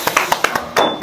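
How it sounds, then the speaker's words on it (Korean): Scattered handclaps ring out for a guest's arrival on a Korean food show, a few sharp separate claps rather than a full round of applause, close and fairly loud. "박수 부탁드리겠습니다"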